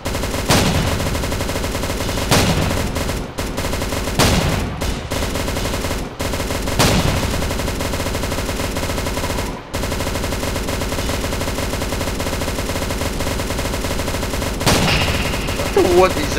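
Automatic gunfire in the Roblox game Riot Control Simulator, a few loud bursts spread through a steady game-audio bed, with brief gaps of silence between shots.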